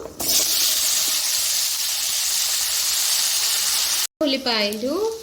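Small onions hit hot oil already holding popped mustard seeds, cumin and fenugreek for an egg pulusu, setting off a loud, steady hiss of sizzling for about four seconds; after a brief cut, a voice talks.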